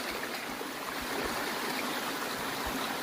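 After rain, water rushes along a stream that has torn loose big rocks from its bed, giving a steady, even outdoor roar with no pauses and no voices.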